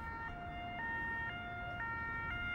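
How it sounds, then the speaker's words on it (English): A European high-low ambulance siren alternates steadily between two pitched tones, switching roughly every half second, loud and continuous with faint road noise beneath. "you'll recognize this sound, which is called the high-low siren"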